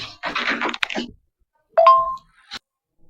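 A doorbell at a house gate rings with a short two-tone chime after a brief burst of talk, then a faint trailing note.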